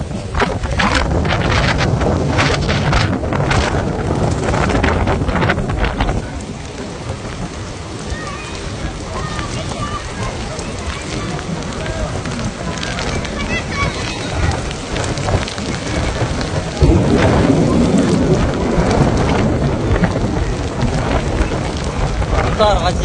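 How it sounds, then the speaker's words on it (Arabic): Heavy rain lashes down in Makkah with strong gusting wind buffeting the microphone, a dense steady roar that stays loud throughout and swells again near the end, with faint voices underneath. "بس شوفوا قوة الأمطار، قوة الهواء"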